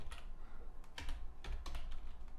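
Keys tapped on a computer keyboard in short, irregular bursts while entering code, close and fairly soft over a steady background hum, with no speech.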